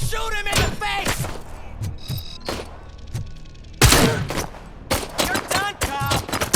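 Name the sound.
gunfire in the video game RoboCop: Rogue City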